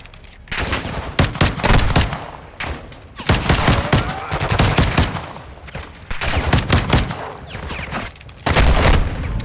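Rapid bursts of automatic gunfire from the video game Modern Warfare II crackle loudly in clusters, with short gaps between volleys.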